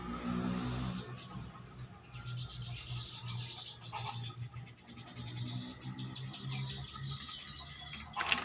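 A male bar-winged prinia parent calls with repeated thin chirps and tweets, fairly close, over a soft outdoor background with no talking.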